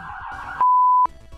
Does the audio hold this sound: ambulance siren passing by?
yes